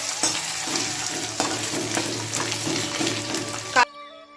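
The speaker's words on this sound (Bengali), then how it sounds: "আমাদের মাছ ভাজছি" Fish fries in a pan with a steady, close sizzle and crackle, joined by occasional stirring clinks. The sizzle cuts off abruptly near the end.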